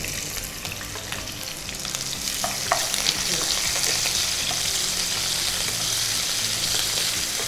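Capsicum strips fry in refined sunflower oil, giving a steady, close crackling sizzle that swells louder after the first few seconds, with occasional spatula scrapes and stirring.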